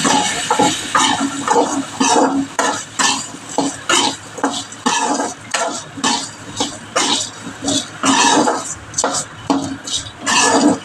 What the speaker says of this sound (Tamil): காரத்துக்கு ஏற்றாப்புல கொஞ்சம் தனி மிளகாய் தூள், போட்டு நல்லா கலட்டி